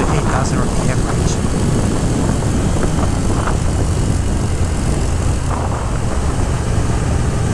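A 2022 Triumph Speed Twin accelerates in fourth gear on a country road: a loud, dense engine drone mixed with heavy wind rush, holding steady for several seconds.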